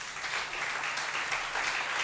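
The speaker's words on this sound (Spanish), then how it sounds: "Dele un aplauso al Señor por eso." A church congregation applauds at a Holy Week service, a steady, fairly distant wash of many hands clapping continuously with no break.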